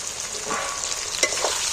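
Capsicum and green chillies fry in hot oil with tomatoes, a close, loud sizzle with a stirring scrape partway through.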